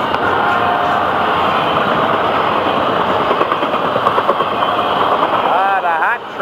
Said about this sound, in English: Ah, the hot train here tonight.